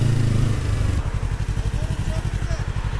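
A 2022 Yamaha MT-03 motorcycle engine runs with a steady, pulsing mid-pitched throb, and the tone shifts partway through as a gear change goes in, while someone talks over it.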